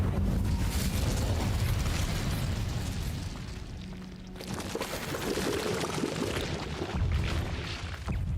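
In Hogwarts Legacy an Incendio fire spell is cast, giving a sustained roaring, whooshing burst of flame. It sounds loud and dense throughout, dips briefly in the middle, then surges again, with no voice over it.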